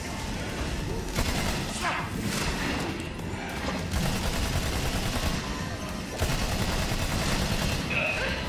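Gunfire in the video game Battleborn, dense continuous bursts of rapid shots and impacts mixed with game effects, loud and near throughout, with a voice talking under it.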